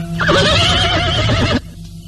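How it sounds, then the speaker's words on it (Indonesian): A horse lets out a loud, close, drawn-out whinny lasting over a second, its wavering cry cutting off abruptly into quieter background. "Oh, kuda itu. Dia meringkik keras sekali."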